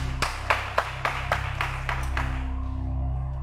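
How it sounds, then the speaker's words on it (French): About eight sharp claps ring out in an even rhythm, then stop, leaving a low hum beneath; it sounds like a few people clapping together rather than a big crowd. "On applaudit pour ça."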